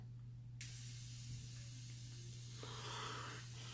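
A Mr Hobby Gundam Marker airbrush sprays paint in a steady close hiss that starts abruptly and runs continuously, briefly shifting in tone near the end, with no talking.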